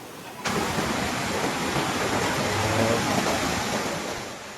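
Flash-flood water of the Cidadap River in Sukabumi rushes past in a dense, constant roar that starts abruptly and holds steady, loud and close, with no voices.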